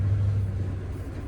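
Lovol 1304 tractor engine pulling a 3.9-metre cultivator across a field, a brief, steady, heavy low drone held at an even level. No talking.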